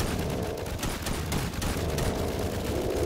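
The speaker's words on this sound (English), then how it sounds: "Our own turrets are killing us." Automated defensive turrets in the tower defense shooter Band of Defenders fire in a dense, continuous barrage of rapid gunshots, loud and close, with no pause.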